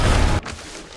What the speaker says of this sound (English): That explosion seems like a big deal.